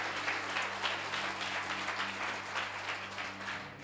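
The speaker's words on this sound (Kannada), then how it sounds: "ಚಪ್ಪಾಳೆ ಹೊಡೆದ್ರೆ ಜೋರಾಗಿ ಹೊಡಿಬೇಕು." A church congregation clapping together during a sermon, a fairly quiet, steady wash of applause with a low hum underneath, continuous throughout.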